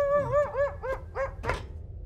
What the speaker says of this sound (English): Why the fuck have I just heard a dog?